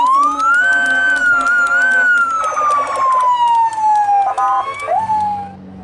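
Sirens from a departing convoy of police, army, civil service and fire brigade vehicles in Siak Regency, wailing loud and close with rising and falling tones that overlap for several seconds before fading.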